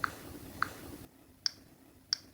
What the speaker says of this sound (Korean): 터치했을 때 소리도 변경됐고,